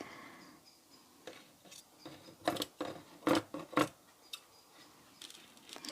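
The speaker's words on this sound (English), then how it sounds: "just take my scissors" A few sharp scissor snips cluster together midway, crisp and close against a quiet background with faint handling noises.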